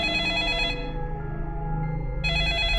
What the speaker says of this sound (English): The sudden ringing of a phone startled everyone in the room.